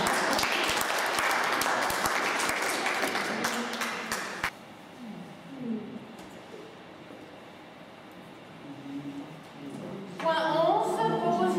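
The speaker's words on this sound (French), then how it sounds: "Je crois qu'on peut l'applaudir." Dense, lively applause fills a room at the general assembly of the Repas à 5 Francs association for about four and a half seconds, then stops abruptly, leaving a quiet hall with faint murmurs and low talk.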